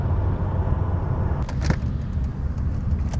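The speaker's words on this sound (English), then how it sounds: "the engine sounds sweet" A car with a freshly forged, rebuilt engine idling steadily with a low rumble, joined midway by a few sharp clicks and knocks, with no talking.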